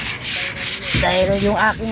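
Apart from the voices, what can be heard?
hand sanding with sandpaper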